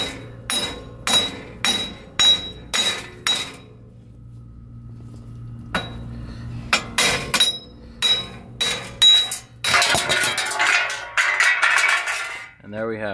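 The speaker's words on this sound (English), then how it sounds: "we're gonna go ahead and tap on this and it should break free. Might need a whack because it's old." Hammer whacking an old, stuck brake part on a Nissan 240SX brake job, a run of sharp metallic clanks in two bursts of evenly spaced blows, then a rattling clatter as the part breaks free.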